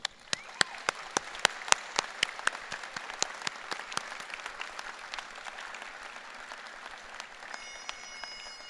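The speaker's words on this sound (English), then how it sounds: "please give Mr. Ferguson a round of applause." An audience at a university new student convocation applauds, sharp individual claps standing out over a dense wash of clapping in a large hall, fading slightly toward the end.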